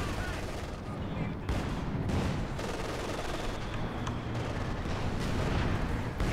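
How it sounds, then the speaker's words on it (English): Katyusha rocket barrage in Company of Heroes 2, a dense rumbling roll of launches and impacts blended with battlefield gunfire and a commentator's voice throughout. "there goes the Katyusha"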